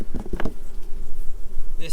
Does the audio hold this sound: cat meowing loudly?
no